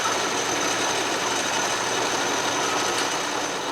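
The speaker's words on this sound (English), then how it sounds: "We're going to turn on the lathe." An Atlas Craftsman lathe runs with its power feed engaged, giving a steady, unbroken mechanical whir and hiss that stays at an even, fairly loud level throughout with no pauses.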